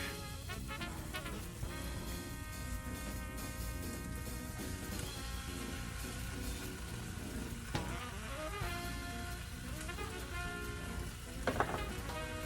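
Beef strips sizzle and fry steadily with bell peppers in a hot pan, a continuous crackling hiss with occasional stirring clinks and scrapes, no voices.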